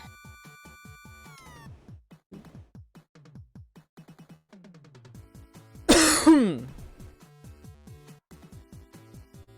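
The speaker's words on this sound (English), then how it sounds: "Coughing" A single sharp cough bursts out midway, loud against a quieter background of soft, intermittent tonal sounds.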